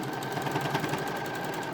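Sewing machine running steadily as it stitches a seam on a fabric bunny toy, a continuous close mechanical whir with rapid needle rhythm throughout.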